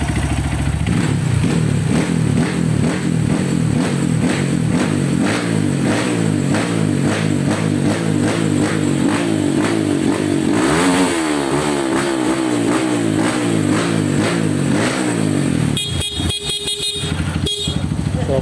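A Honda CRF 150 motorcycle fitted with a 212cc bore up kit with a 66mm steel bore revs loudly and continuously at close range, its pitch climbing and falling through repeated throttle blips, with a brief horn-like tone near the end.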